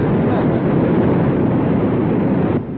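A vehicle engine revs hard while its wheels spin in mud, making a loud, continuous roar that holds steady and drops slightly at the very end.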